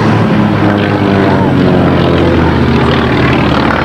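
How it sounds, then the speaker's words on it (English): A P-51 Mustang's piston engine and propeller roar loud and steady at high power at an air show, a dense continuous drone that fills the whole moment. "You can tell the P-51's running with all kinds of high power settings."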